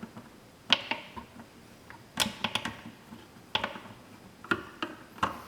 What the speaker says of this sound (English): So there's 2 screws here you need to unscrew.